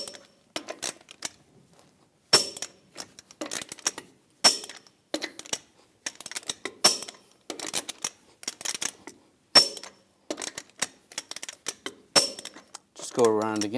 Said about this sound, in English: Now we're going to torque the lug nuts to 140 foot-pounds in a cross pattern to tighten the wheel down evenly.